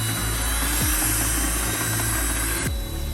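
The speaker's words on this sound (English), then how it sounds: "you can use a basic drill, get a helix mixer, and we're just going to go for 3 minutes" A handheld drill whirs steadily with a helix mixing paddle churning garage floor epoxy, its motor pitch dipping briefly twice under load before continuing.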